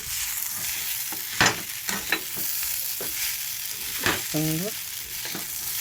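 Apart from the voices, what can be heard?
stirring peanuts and egg bhujia in a frying pan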